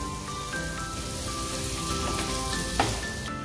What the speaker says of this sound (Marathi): आता ही आणखी आपण 1-2 मिनिटं परतवून घेऊया